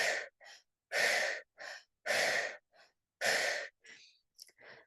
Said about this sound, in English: So we breathe faster and deeper than we normally breathe.